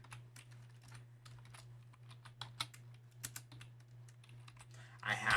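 Keys tapped on a TI-Nspire calculator keypad in an irregular run of soft, close clicks over a low steady hum, with a louder rustle at the end.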